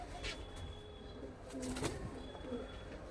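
Panjabi Malwai pigeons kept for sale give soft, faint cooing calls in a few short bursts against low background hiss.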